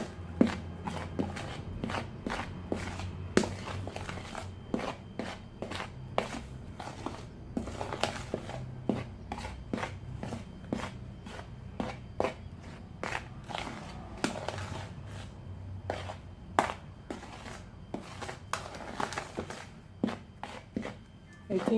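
Dry ingredients for mandazi with cinnamon and lemon zest mixed by hand in a bowl, giving soft scattered crunching and rustling taps at an uneven pace, faint and close.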